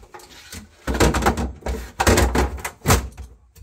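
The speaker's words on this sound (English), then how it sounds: "Now we put the bottom drawer back in." GE refrigerator bottom drawer being slid back into place, several loud plastic thunks and scraping bumps close up, in uneven bursts with brief pauses between them.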